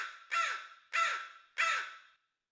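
A crow gives three loud, harsh caws in an even rhythm, each one close and clear against silence.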